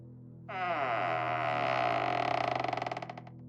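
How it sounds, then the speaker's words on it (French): A half-broken metal door is forced open with a long, loud, sinister creak that grinds steadily and then breaks into a stuttering ratchet-like judder as it gives way. "Max et Hugo forcent la porte et elle cède dans un grincement sinistre."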